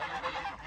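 Geese honking in a rural Chinese village, a continuous run of overlapping calls at moderate loudness with no voices over them.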